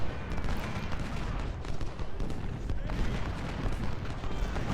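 Gunfire and artillery rumble in Ultimate General: Civil War during the First Bull Run battle over a bridge, a dense, continuous roll of musket volleys and distant booms, moderately quiet and unbroken.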